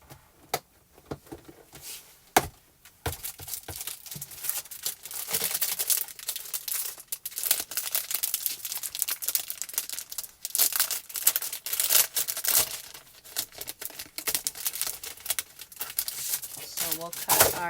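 Sweet mango cardstock being cut for a mat layer, a run of crisp crinkling, snipping and sliding paper sounds close by, fairly steady with brief louder bursts, with some talk mixed in.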